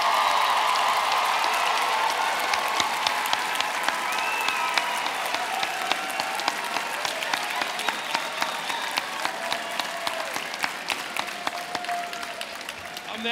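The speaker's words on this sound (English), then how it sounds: "Let's have another round of applause for the class of 2017." A large commencement crowd applauds the college's graduating class of 2017, with sustained dense clapping and scattered sharp claps over a bright crowd roar, continuing strongly throughout.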